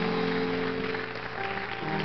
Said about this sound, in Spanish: Denle ese aplauso al héroe de nuestra fe.